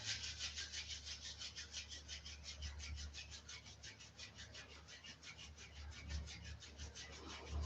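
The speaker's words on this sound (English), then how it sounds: "And then just starting to rub the palms of the hands together in front of the heart space." Palms of the hands rubbing together briskly in front of the chest during a yoga practice, a steady soft swishing rhythm that keeps going without pause, close and quiet, with no voice.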